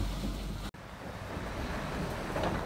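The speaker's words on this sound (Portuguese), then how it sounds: "Nesse momento está chovendo." Rain falling steadily over the Gerdau precast yard, a continuous broadband hiss with low rumble, briefly cut by a short dropout near the start, no voices.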